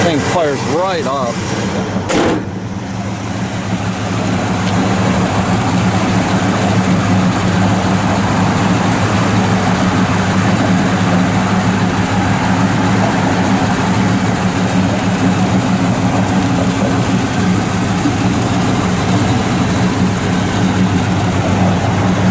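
A 1965 Oldsmobile Cutlass 442 V8 with dual Flowmaster exhaust and automatic transmission catches and settles into a loud, steady, rumbling idle close to the listener, holding strong and even throughout.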